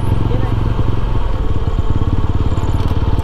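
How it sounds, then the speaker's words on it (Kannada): A TVS Apache RTR 310 motorcycle pulls away in first gear with a loud, close engine note that throbs in rapid pulses as the throttle opens. "ಫಸ್ಟ್ ಗೇರಲ್ಲಿ ಮೂವ್ ಮಾಡೋಕೆ ಆಕ್ಸಿಲೇಟರ್ ಕೊಟ್ಬಿಡಿ, ಸುಮ್ಮನೆ ಹೋಗ್ತಾ ಇರಿ."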